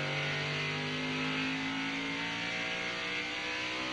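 NASCAR Craftsman trucks racing at Richmond in 1997, a steady high engine whine and roar carrying continuously at a distance, like a broadcast feed of trucks circling the track.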